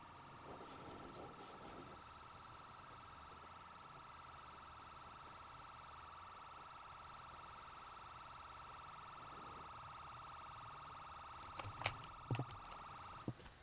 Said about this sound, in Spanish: por ahí viene la ambulancia